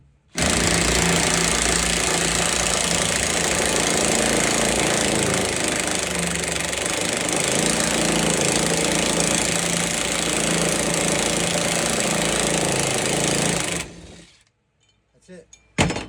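A battery-powered impact tool spins a nut on a Jeep Wrangler seat bracket, a loud, continuous hammering rattle that runs about fourteen seconds before it stops abruptly and leaves a few faint clunks.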